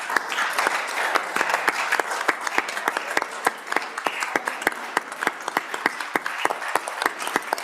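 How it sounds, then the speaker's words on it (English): Senators on the Senate floor give the committee chairmen a round of applause, steady moderate clapping with sharp individual claps standing out, continuing evenly throughout. "I'd like to have all the committee chairmen stand That would and be give great. them a round of applause."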